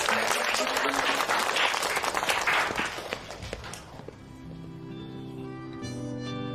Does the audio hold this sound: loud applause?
yes